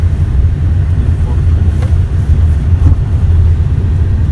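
A 2021 Jeep Compass engine pulls at low revs in a high gear, a steady, fairly loud low rumble that holds evenly without knocking.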